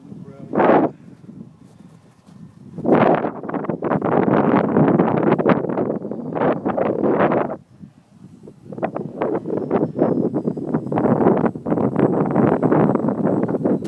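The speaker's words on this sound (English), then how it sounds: "Too windy." Heavy gusts roar across the microphone in loud bursts separated by brief lulls, rough and blustery throughout.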